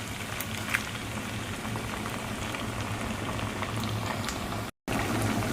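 Canned sardines hit hot chili paste in a frying pan, giving a steady dense sizzle throughout with a brief dropout near the end.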